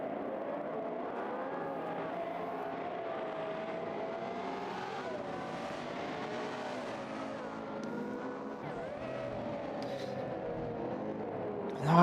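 GT World Challenge race cars set off on the formation lap at the Belgium Grand Prix, a steady massed engine drone that holds throughout and swells briefly at the very end.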